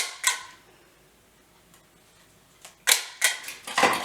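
A tagging gun clicks plastic tags into a shirt seam, producing a few sharp mechanical clicks: one early, then a quick cluster of three or four near the end, close and fairly loud in a quiet room.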